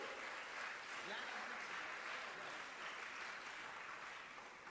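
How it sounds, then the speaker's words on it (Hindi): Distant, faint audience applause at a religious discourse gathering, a continuous dense wash of many hands clapping with little variation across the whole stretch. "आपकी तालियां होना चाहिए मुन्ना जी पर"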